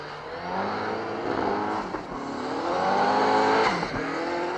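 A heavily modified 1990 rally car racing on a stage of the Otago Rally in New Zealand, its engine revving steadily and climbing in pitch with gear changes, loud and fairly close throughout with no talk.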